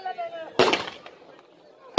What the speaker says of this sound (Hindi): ये पटाखे वो हैं जो आपकी रात चलेंगे।